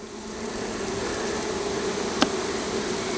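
Honey bees buzz steadily around hive frames during a drone-frame removal, a dense continuous drone close by with one brief sharp click partway through.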